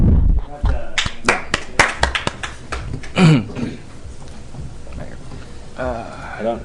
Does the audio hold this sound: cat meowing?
no